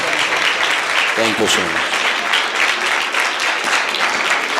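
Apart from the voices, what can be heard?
congregation applause welcoming pastor in church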